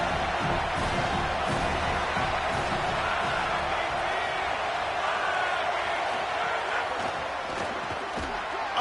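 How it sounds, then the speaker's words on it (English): A home crowd at a college football game keeps up a dense, continuous roar of cheering and shouting that fills the stadium without letup. "Now this home crowd making life difficult."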